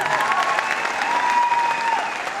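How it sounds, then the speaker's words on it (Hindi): Loud, steady applause fills Talkatoda Stadium in Delhi, a large crowd clapping continuously at a wellness company event, with a faint voice murmuring underneath. "एक बार जोरदार तालियां।"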